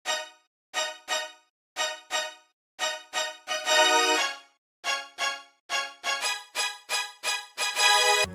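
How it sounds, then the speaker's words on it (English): Chopped Nexus synth strings play within a beat as short, evenly spaced stabs with a few longer sustained chords, clean and isolated with silence between the hits. "I also added another instance of Nexus, and this time around it's strings and they sound like this."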